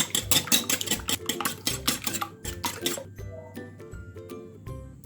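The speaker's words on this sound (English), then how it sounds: "wet ingredients, which is 2 eggs. Let's give it a quick whisk" Two eggs whisked briskly in a bowl for savoury pumpkin and feta muffins, a rapid run of close, bright clinks and taps that slows into scattered lighter strokes.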